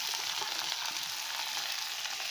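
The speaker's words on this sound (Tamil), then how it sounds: "இதில் பெசரி வச்சுருக்கேன் இந்த அவரைக்காய் பயத்தம்பருப்பு ரெண்டையும் அப்படியே இதில் போட்டுக்கிறேன்" Broad beans and moong dal sizzle and fry in a pan of hot oil tempered with mustard seeds, a steady close crackling hiss throughout with no talking.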